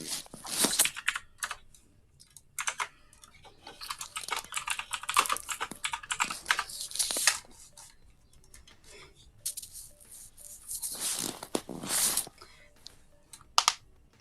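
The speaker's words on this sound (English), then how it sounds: "all that crinkling" Crinkling from someone off-mic during an online Resurrection of Talamh tabletop roleplaying session, a run of dry, irregular crackles and taps in uneven bursts, fairly close and moderately loud, with no talk over it.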